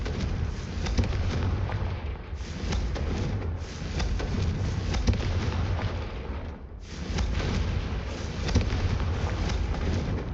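Booming fire-spell blasts from the Hogwarts Legacy video game, a dense, sustained roar of crackling explosions with two brief lulls, loud and continuous throughout.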